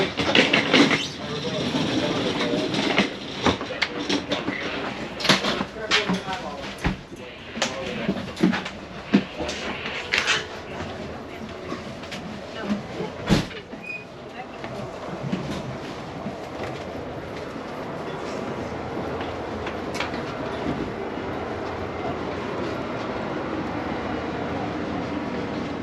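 An Amtrak passenger train at Burbank station rumbles steadily nearby with clanks and rattles, while people talk faintly in the background.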